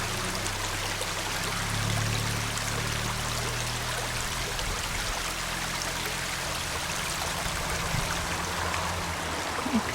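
A stream flows steadily along a pilgrimage trail on the Way of St. James, a continuous broadband rush and trickle of water, moderately loud and near, with no talking over it.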